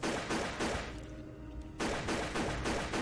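Laser and weapon fire from a firefight in the tactical game UFO: Afterlight comes as rapid, rhythmic bursts of shots, with a brief lull in the middle before the shooting resumes.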